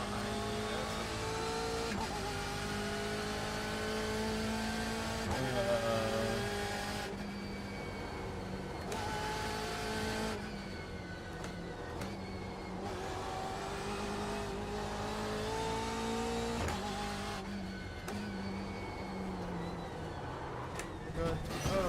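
Race car engines in the iRacing sim on the Nürburgring whine loudly as they rev, climb through gears and cut sharply on shifts, with someone talking over them at times.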